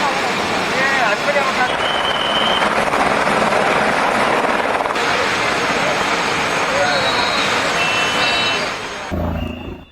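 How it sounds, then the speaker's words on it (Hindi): Rescue helicopter flying over a flash-flood disaster area in Nepal, its loud continuous rotor and engine roar filling the scene with a few brief whines layered on top. "इस वजह से हेलीकॉप्टर से रेस्क्यू अभियान चलाया जा रहा है।"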